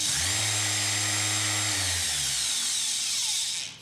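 A random orbital sander whirs up with a loud, steady high-pitched whine, then spins down and fades out near the end; no talking.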